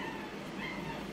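Puppy at a handover, with faint yips and a soft whimper in a noisy space, brief and low in level beneath a steady background hum.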